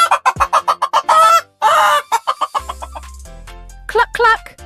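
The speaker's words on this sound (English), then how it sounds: "This animal lays eggs and says cluck cluck." A hen clucks in a quick, close run of sharp, loud calls, pauses, then gives a few more clucks, with a low hum underneath in the second half.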